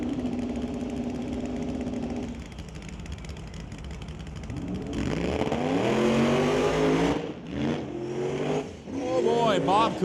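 Drag race between a 1993 Ford F-150 and a Mustang, engines idling then roaring off the line with rising revs and gear changes, loud and fairly near, with an announcer talking throughout.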